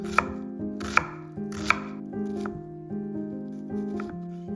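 A knife chops bell pepper, garlic and onion on a cutting board, with a quick run of crisp, close knocks that come in small bursts, with no talk.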